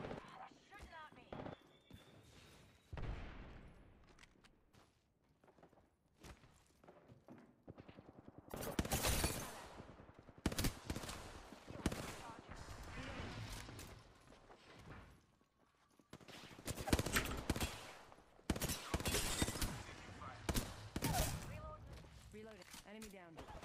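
Enemies open fire in a video game, with bursts of gunfire coming in clustered volleys between quieter stretches while a player talks over the action.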